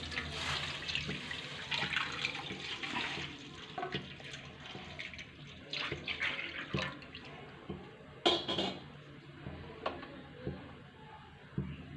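Full cream milk is poured into a wok on a gas stove while making kheer pantua. A steady liquid splash and gurgle goes on throughout, close and moderately loud, with small clinks near the end.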